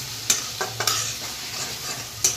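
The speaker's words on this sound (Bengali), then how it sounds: "এবার পেঁয়াজগুলো দিয়ে দিই" Taro leaf mash stirred in a frying pan with onions going in, a steady sizzle under a few sharp scraping and clinking stirs, close and moderately loud.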